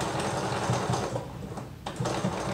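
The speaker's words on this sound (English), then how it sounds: "I'm just coming back over my stitches." A sewing machine runs in quick rhythmic bursts, stitching back over earlier stitches on a liquid lamé shirt, with a brief pause near the end before the mechanical chatter resumes, close and alone.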